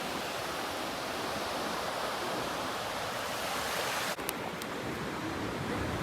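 Ocean surf washes steadily onto the beach at Punta Mita, Nayarit, where surfers wait for waves, a continuous broadband roar with no distinct breaks, heard alone with a brief click near the end.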